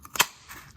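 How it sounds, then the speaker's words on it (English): A handheld paper punch cutting through cardstock for a Christmas card, a single sharp snapping click with a small lead-in tick, close and brief. "I'm gonna go ahead and punch this out."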